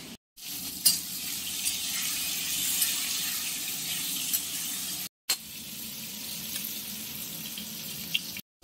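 Eggplant pieces with turmeric and a little salt fry in oil for a Bengali hilsa fish curry, a loud, steady sizzle with stirring clinks, broken by two brief silent gaps.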